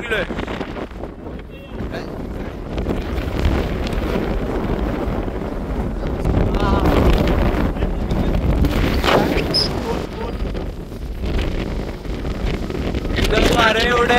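Strong gusting wind buffets the microphone with a continuous loud roar, while voices speak intermittently under the rumble.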